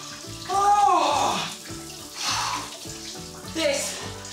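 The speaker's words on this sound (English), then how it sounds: "This is the cold shower bit to close the pores again afterwards." Cold shower water runs and splashes in bursts, a hissing spray rising and falling in several surges, with a voice briefly exclaiming over it.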